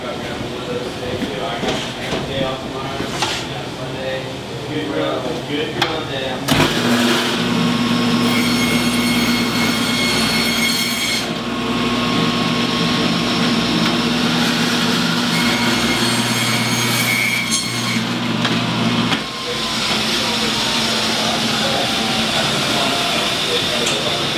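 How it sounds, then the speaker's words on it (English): A butcher's bandsaw cuts through dry-aged beef and bone with a steady, loud mechanical whine and grinding rasp, shifting in pitch as the blade bites and ends abruptly near the end; a voice talks over it. "the bandsaw will rip through the bone and rip through some of the meat"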